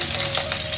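Green chilies fry in hot oil for a vegetable masala pasta, giving a steady close sizzle with faint stirring, brief and alone.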